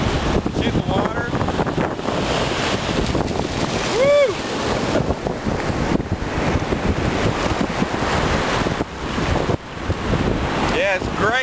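Wind and surf on a Gulf of Mexico beach at Destin, a steady broadband roar of breaking waves and gusting wind buffeting the microphone throughout, with a voice briefly whooping and talking over it.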